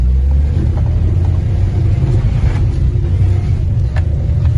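A Maruti Suzuki WagonR Stingray engine labors in first gear climbing an off-road hill in Coorg, a loud, steady low rumble with slight revving, close and continuous without voices.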